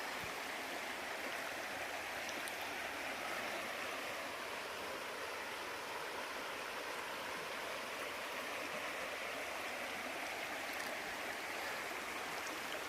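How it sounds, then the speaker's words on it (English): Fast-flowing forest stream on a mountain trail, a steady, unbroken broadband rush of water that stays even throughout with no voices. "And you can still hear that fast flowing stream."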